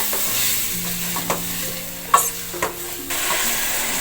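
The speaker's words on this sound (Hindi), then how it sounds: "अब इसको 2 मिनट तक बस भूनना है ताकि" Masala for beef nihari frying on high heat sizzles continuously as a spoon stirs and scrapes the pan, with a few sharp clinks and knocks, close and alone without speech.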